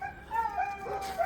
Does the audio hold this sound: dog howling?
yes